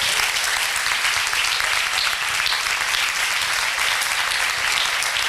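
A church congregation at a congress applauds a revered preacher, dense steady clapping filling the whole stretch at full strength without a break.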